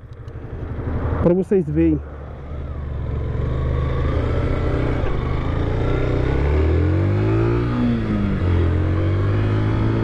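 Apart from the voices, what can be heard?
Yamaha FZ-15 motorcycle riding uphill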